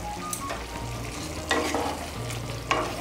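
Banana flower curry with slit green chillies is stirred in a pan, giving a soft sizzle with several scraping strokes of a spoon against the pan, fairly quiet and close.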